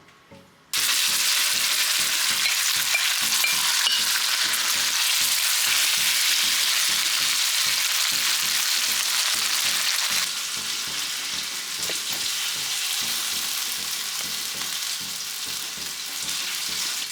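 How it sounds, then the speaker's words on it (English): Loud, continuous sizzling and crackling of chicken frying in hot oil, starting abruptly and holding steady throughout, with no talking. "I'm frying the chicken to have it cooked, but not all the way through"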